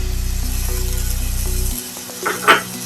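Tomatoes sautéing in a pan with ginger-garlic paste and onions for a prawn thokku, a steady close sizzle with low stove rumble that cuts off partway, followed by a few soft scraping stirs.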